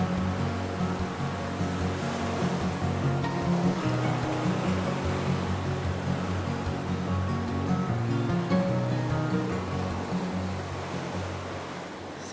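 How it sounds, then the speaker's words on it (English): Ocean waves roll onto an Atlantic or Gulf beach, making a steady, broad wash of surf that holds at an even loudness and fades slightly near the end. "Oh, look at those waves."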